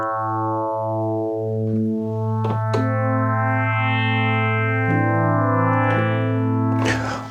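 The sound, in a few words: FM synthesizer notes with linear envelope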